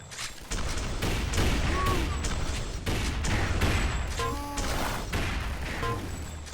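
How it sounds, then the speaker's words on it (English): Rocket fire and gunfire trade across the map in a tournament shooter match, with dense continuous booms and crackling shots filling the whole clip, loud and steady, while players talk over it. "Rocket exchange across the map."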